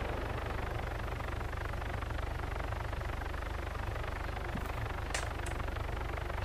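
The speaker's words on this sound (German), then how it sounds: "Was kommt jetzt da für ein Heli?" A helicopter in the video game Arma 3 drones with a steady, loud rotor thrum and engine hum, constant throughout with no voices.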